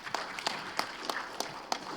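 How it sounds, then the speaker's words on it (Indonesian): At a political youth organization gathering, a crowd claps in a slow, regular rhythm, about seven evenly spaced hits over a steady background of scattered clapping. "Boleh kasih tepuk tangan untuk beliau."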